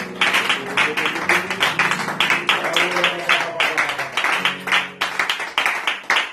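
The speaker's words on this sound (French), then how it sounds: "Acclamons pour le Seigneur" A church congregation claps together in a fast, steady rhythm, loud and close, with voices singing or calling beneath the beat throughout.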